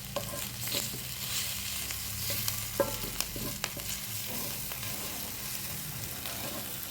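Garlic frying and being stirred in a pan makes a steady sizzle with scattered clicks of utensil against the pan, moderately loud and without speech.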